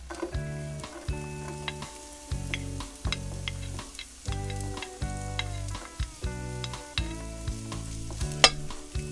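Onions sizzle in a hot pan for arroz valenciana, with scattered scraping clicks from stirring over a pulsing low tonal background.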